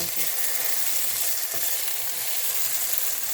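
Potatoes stir-frying in a pan over medium heat, a constant hissing sizzle close up with a few soft stirring scrapes underneath.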